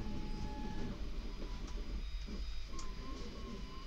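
An automated FDM 3D printer runs with a steady mechanical whir and hum, punctuated by faint stepper-motor tones that rise and shift, heard alone at moderate level.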